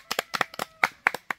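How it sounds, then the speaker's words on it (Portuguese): Hands clapping at a family farewell gathering at home: about a dozen sharp, close claps in an uneven, loose rhythm, with short gaps between bursts and nothing else heard. "Palmas."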